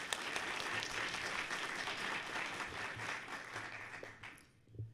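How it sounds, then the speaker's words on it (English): Warm, sustained audience applause at a BSides Portland 2019 security conference talk, steady clapping from a sizable crowd throughout that tapers off abruptly at the end. "Can we all give a warm, welcoming round of applause to Nancy?"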